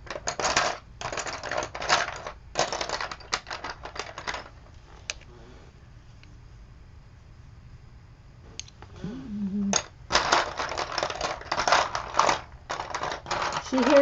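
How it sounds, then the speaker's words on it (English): Colored pencils clink and rattle in bursts as they are picked through and handled, with a quiet pause in the middle and a brief voice near the end. "She hears my pencils."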